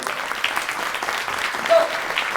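Applause from a church congregation during a sermon, a steady even patter of clapping at moderate level with a faint voice briefly rising over it.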